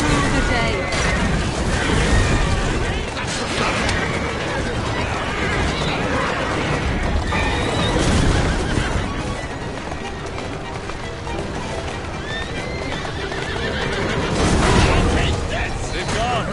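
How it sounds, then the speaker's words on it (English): Horse-drawn carriages gallop in an Assassin's Creed game, with steady hoofbeats and rolling wheels loud and close alongside rumbling impacts and busy game sound effects throughout. "Their carriages are easily damaged."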